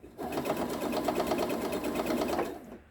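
A sewing machine stitches across the bottom of a quilted oven mitt using a long stitch, running as a close, steady rapid chatter for under three seconds before stopping.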